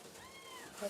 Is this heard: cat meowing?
yes